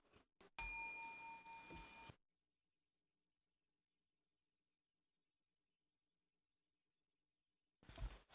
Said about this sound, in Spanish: Escuché la campana y pensé que terminó.